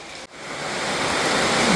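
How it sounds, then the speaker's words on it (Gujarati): Heavy rain pours down in a dense, even hiss that briefly dips, then grows louder and fuller. "ફૂલ વરસાદ ચાલુ થઈ ગયો"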